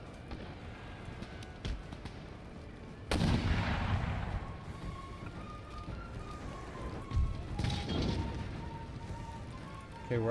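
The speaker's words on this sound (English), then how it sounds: "hellacious cannon fire." Heavy cannon fire in an Empire: Total War Darthmod battle, with loud booming blasts starting about three seconds in and another burst near eight seconds over a rumbling battlefield din, under a speaking voice.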